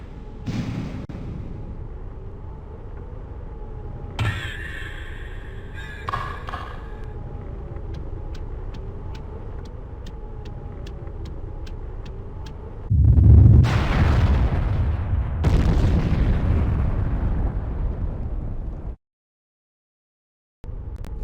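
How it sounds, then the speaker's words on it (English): A nuclear explosion in the PC video game Dark Earth: a heavy, roaring blast erupts after a stretch of quieter game ambience and sustains loudly for several seconds before cutting off abruptly. "Arkan would use the strange device from the before times to nuke the place in order to reach it"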